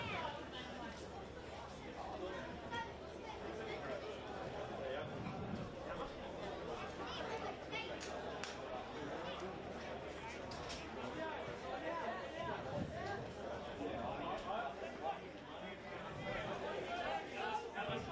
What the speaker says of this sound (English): This crowd here gearing up for the final 30 minutes or so here at Darling Street Oval